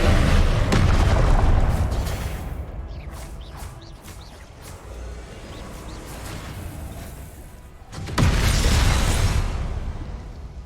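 Confringo spells burst in Hogwarts Legacy, giving loud, close, booming blasts: a heavy explosion at the start, a fading rumble with smaller pops and whooshes, then another strong blast near the end.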